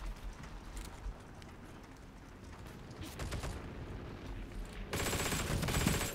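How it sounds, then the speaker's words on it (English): Gunfire in the World War II shooter game Heroes and Generals comes as sporadic distant shots and bursts, then turns into a loud, rapid automatic burst near the end. "There's some guy shooting down there."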